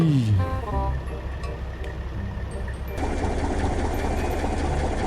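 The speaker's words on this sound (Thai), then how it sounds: "สตาร์ทเครื่องเอ้ย" A truck engine in Farming Simulator 19 cranks with a rising whine, then settles into a rough, rumbling idle that grows louder and fuller, with a voice briefly over it.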